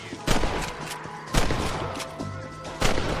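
Gunfire rings out in Red Dead Redemption, three loud, sharp shots spaced about a second apart with rumbling echoes and game ambience between them.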